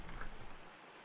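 Soft, steady rainfall in the video game UnReal World patters in the background, a faint continuous hiss with no voices.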